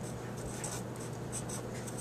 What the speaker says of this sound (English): So let's go ahead and write that in.